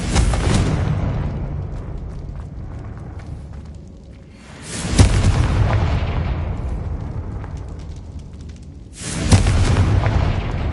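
Confringo blasting spells from Hogwarts Legacy go off three times, each a loud, heavy boom with a long rumbling decay, spaced about four seconds apart with no voice over them.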